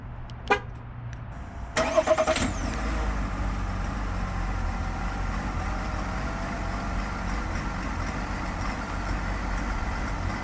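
A Chevrolet Silverado's 3-liter Duramax diesel runs, heard from the front of the truck: two sharp, horn-like chirps near the start, then a steady, close engine drone that continues evenly to the end.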